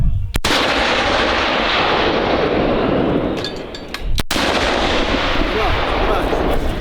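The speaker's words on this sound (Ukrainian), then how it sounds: "Постріл!" Two heavy artillery blasts, one near the start and one around four seconds in, booming over constant loud wind and rumble.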